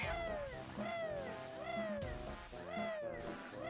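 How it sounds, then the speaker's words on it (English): A cat in the Banjo-Tooie video game meows repeatedly in a steady series of bright, rising-and-falling cries over game sounds, with each meow loud and close. "the cat's always in a terrible place."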